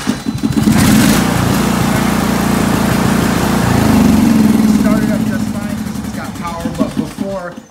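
A riding lawnmower with a dead battery, jump-started with cables, cranks over and runs with a steady, loud engine drone that fills the whole stretch and fades slightly toward the end.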